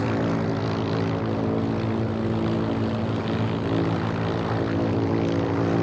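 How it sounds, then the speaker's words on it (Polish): Propeller warplanes drone steadily overhead in the World War II shooter game Heroes & Generals, a loud continuous engine hum with layered harmonics holding unchanged throughout, with no talking. "O co chodzi z tymi samolotami? Czemu takie puste latają?"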